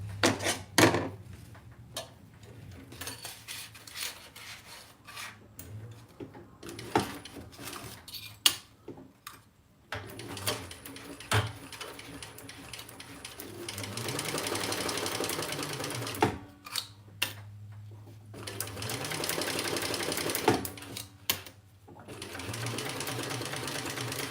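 Sewing machine basting a zipper onto fabric for a crossbody bag: bursts of rapid mechanical stitching of varying length, separated by pauses with small clicks and handling noises, close and moderately loud.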